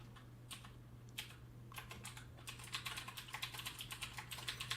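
Someone types code on a computer keyboard, a close run of quick key clicks in irregular bursts that grow denser and more rapid toward the end, with no talking.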